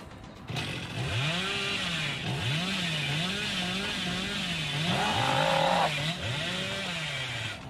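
The Hillbilly's chainsaw in the horror game Dead by Daylight revs continuously, its pitch looping up and down in repeated surging waves over a steady buzzing drone, loud and close with no talk.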